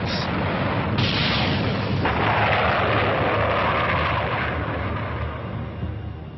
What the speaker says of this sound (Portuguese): apontou a sua mais nova e mortal arma contra a Antuérpia: o foguete V2